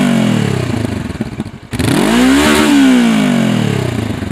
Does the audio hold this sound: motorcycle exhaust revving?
yes